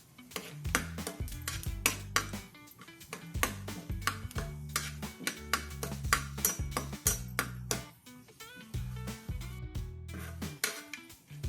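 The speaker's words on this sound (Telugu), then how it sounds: "ఇందులో సన్నగా తరిగిన బాదం, వేసి ఇలా ఫ్రై చేసుకోవాలి" Thinly chopped almonds are fried in a pan for bottle gourd barfi. A spatula scrapes, clinks and clatters against the metal in quick bursts, over a faint sizzle, with brief pauses.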